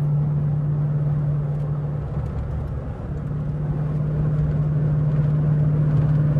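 A Chrysler Hemi car engine idles roughly after running out of gas, a steady low drone with a strong hum and faint uneven wavering, heard from inside the car.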